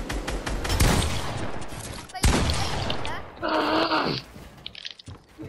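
Rapid bursts of video game gunfire crackle loudly over several seconds, with excited voices talking over the shots.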